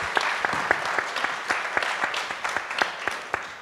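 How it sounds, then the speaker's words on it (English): A smaller audience at a television preview event applauds with distinct, individually audible claps in a loose, uneven rhythm, fairly close and moderately loud. "round of applause for you"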